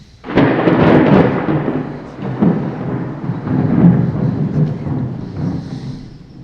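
A sudden crack of thunder followed by a long, deep rumble that rolls on and slowly fades away.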